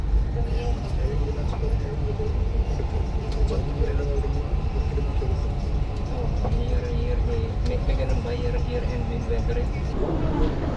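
Continuous rumble and rattle of a Dubai Metro train in motion, heard from inside the carriage, with a steady roar and faint chatter from passengers.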